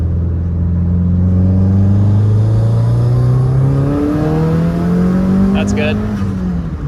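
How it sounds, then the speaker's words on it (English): A Subaru WRX, freshly fixed with a new MAF sensor and tune, accelerates hard toward 6,000 RPM, its exhaust note rising steadily in pitch as a loud, continuous drone with a brief dip and recovery partway through. "We're gonna get some exhaust sound. And try to maybe accelerate to at least like 6K RPM."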